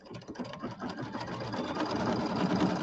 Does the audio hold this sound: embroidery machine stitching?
yes